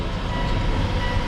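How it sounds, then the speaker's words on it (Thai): Mitsubishi Outlander PHEV petrol engine starting up and running, a steady broadband low rumble with no pauses, heard alone at close range. "นี่คือเสียงเครื่องยนต์ติด"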